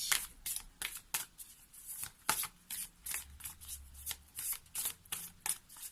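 Oracle cards for lunology are shuffled close up in a rapid run of crisp riffles and flutters, about a dozen bursts in quick rhythm with short pauses between, and no talking.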